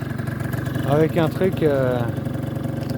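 A Peugeot Ludix 50cc scooter with an Athena kit revs up from idle, its buzzy two-stroke note rising and falling twice, close and loud, while someone talks over it.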